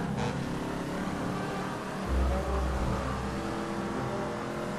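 An engine note hums steadily from a car driven in GTA V, with a brief low surge partway through as it accelerates, while no one speaks.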